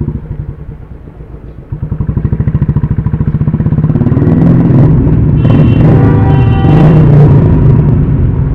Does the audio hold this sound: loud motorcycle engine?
yes